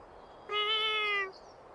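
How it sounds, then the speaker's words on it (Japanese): One clear, drawn-out meow from a black cat in the video game Little Witch Nobeta, close and alone over a faint background hum, lasting just under a second. "猫ちゃん？"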